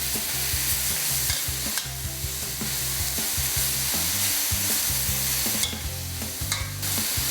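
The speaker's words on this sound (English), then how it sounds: "Fry these for about 30 seconds to about a minute, till the garlic and the spring onions are fragrant" Carrots, garlic and spring onions are stir-fried in a hot pan for stir-fried udon with pork, giving a loud continuous sizzle broken by regular scraping strokes of a spatula.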